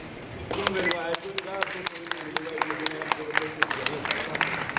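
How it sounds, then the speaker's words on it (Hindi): Audience clapping at a Darda award ceremony for the Jeevan Gaurav award, with scattered sharp claps running steadily beneath someone speaking over a hall microphone. "आप सबकी जोरदार तालियों में भी जीवन गौरव अवार्ड"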